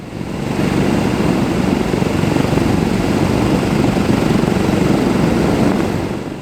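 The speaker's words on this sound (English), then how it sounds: "Now we are shutting down the first engine." Piston engine of a Douglas DC-6 airliner during a ground run, a steady loud propeller drone that holds even and close throughout before easing slightly at the very end.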